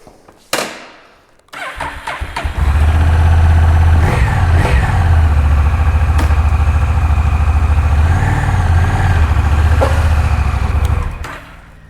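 Honda Rebel 1100 motorcycle engine starting with a sharp crank, then settling into a loud, steady low-pitched rumble that holds close and continuous throughout the ride, with slight revving swells.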